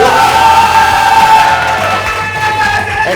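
A crowd at a billiards match roars with cheering, whoops and clapping as the final round begins, a loud, steady wall of voices and hands.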